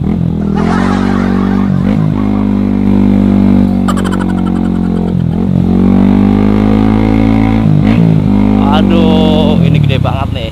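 A motorcycle pushes through deep floodwater close behind a car, its engine loud and close. The engine revs strongly, its pitch swelling and dropping in repeated surges.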